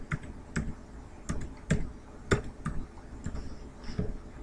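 Keystrokes on a computer keyboard while entering code during a Tumblr blog setup, heard as irregular bursts of crisp clicks, fairly close and quiet, with short pauses between groups of taps.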